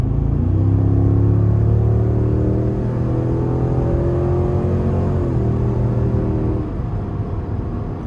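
A 2026 Cadillac Escalade ESV engine pulls hard under acceleration, its steady drone climbing in pitch before easing at each gear change, with constant road rumble close by.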